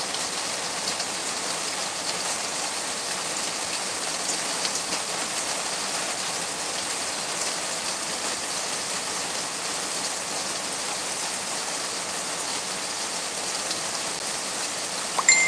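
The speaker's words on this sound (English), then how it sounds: "The rain sound like it's stronger than me." Steady rain hisses evenly throughout, a dense continuous patter with no pauses, fairly soft and distant.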